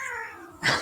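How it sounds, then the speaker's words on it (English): A cat lets out a short, loud caterwauling meow near the end, after a quieter stretch of strained mewing sound, close and alone with no talk. "This cat is insane."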